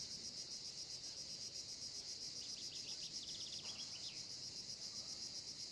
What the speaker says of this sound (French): le chant des cigales et des oiseaux dans tes oreilles